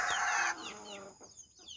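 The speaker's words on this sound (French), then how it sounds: "Et mon coq bleu caille qui reproduit." A blue quail-coloured rooster clucks and calls close by in a short, loud burst that drops to softer clucks.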